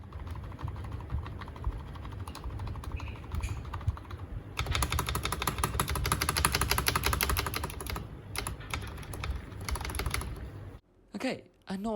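A cheap keyboard with Vaseline-lubed stabilizers is typed on at a steady, rapid clatter, growing denser and louder midway, with quiet talk behind and a few final louder thocks.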